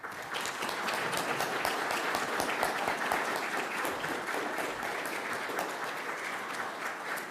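Audience applause for medal recipients at an Order of Newfoundland and Labrador investiture ceremony, a dense, steady wash of many hands clapping in a hall, moderately distant and sustained throughout.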